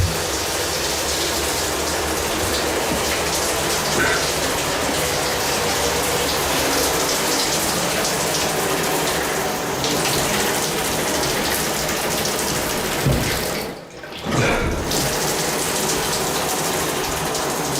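A house tap runs during a home inspection while waiting for hot water, a steady loud gush and splash into a sink that continues unbroken for many seconds, briefly dipping near the end.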